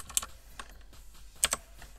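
A few sharp, isolated keystrokes on a computer keyboard during Photoshop work, close and crisp, with short pauses between clicks and no talking.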